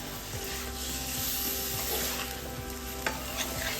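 Chicken stir-fried and mixed in a pan for a semi-gravy chicken fry, a continuous close sizzle with rhythmic scraping of the spatula and a couple of sharper knocks near the end.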